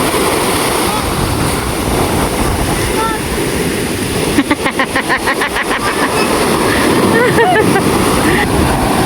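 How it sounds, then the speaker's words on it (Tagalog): Strong sea waves crash and churn around a small wooden boat, a loud continuous wash with a rhythmic rattling knock midway, while people shout and talk over it. "Hindi makaya dahil po ang lakas ng alon."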